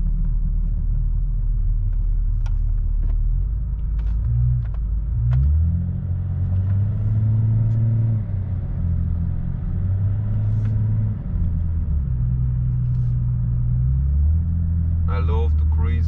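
A remapped BMW E38 725 TDS diesel sedan cruises through city streets at low revs, its engine a steady low rumble with gentle swells in pitch, heard from inside the cabin while a person talks over it.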